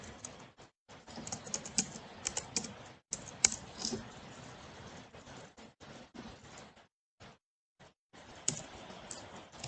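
Someone types ipconfig on a computer keyboard, producing a quick run of close, crisp key clicks in short bursts with brief pauses, ending in a few isolated taps.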